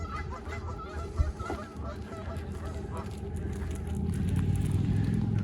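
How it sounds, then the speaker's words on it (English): Geese honk in short, scattered calls under outdoor ambience beside a lake, fairly faint, while a low rumble of traffic or wind builds toward the end. "These just happen to be geese."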